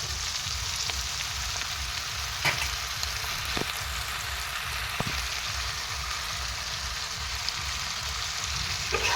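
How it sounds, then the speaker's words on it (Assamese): Cauliflower frying in a pan of fish curry with green peas and turmeric, a steady loud sizzle throughout with occasional stirring clinks, no one talking. "তাৰপিছত এয়া দি দিম মই ফুলকবিখিনি।"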